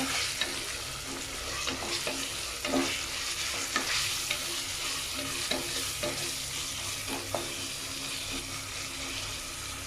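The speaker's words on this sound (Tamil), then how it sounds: "இப்போது இந்த வெங்காயத்துக்கு கூட நான் இஞ்சி பூண்டு பேஸ்ட் ஆட் பண்ணிக்கிறேன். ஆட் பண்ணிவிட்டு அதையும் சேர்த்து நல்லா வதக்கிடுங்க." Chopped onions sautéing with ginger garlic paste for egg dum biryani, a steady low frying crackle under repeated soft stirring scrapes, fairly quiet and continuous with no talk.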